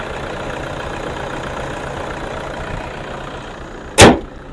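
A 2010 Toyota Innova 2.5 G diesel engine idles steadily and smoothly at close range, a continuous low rumble, ending with a single sharp thud like a door closing.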